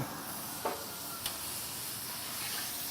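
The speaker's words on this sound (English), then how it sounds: "throw down a couple pats of butter" Butter pats sizzling on a hot backyard griddle while cheesesteaks are being made, a steady soft frying hiss throughout with a couple of brief louder crackles near the start.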